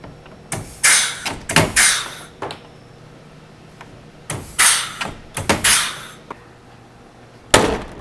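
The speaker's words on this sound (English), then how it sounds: "As you can see, our door closes pretty quickly." Door of a PolyJohn portable toilet unit swinging shut under a Ryobi door closer, heard as several loud, sharp bangs and thuds in separate bursts across the clip, with no talking.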